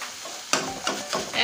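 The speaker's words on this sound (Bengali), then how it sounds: "একদম যতক্ষণ না জল না মরবে এতক্ষণ ভাজতেই হবে" Taro leaves (kochu shak) sizzle in a pan as they are stirred, with three or four distinct scraping pushes of the spoon over a soft, continuous frying hiss, close and fairly quiet.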